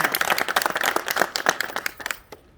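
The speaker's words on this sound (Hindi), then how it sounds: "ताली बजा दो भाई" Quick bursts of hand clapping at a BJP political event, a small group applauding loudly for about two seconds before the claps thin out and stop.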